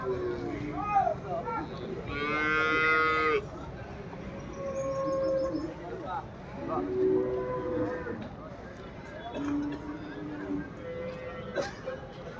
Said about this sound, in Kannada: ಎತ್ತು ಬಂದೈತೆ ನೋಡಿ,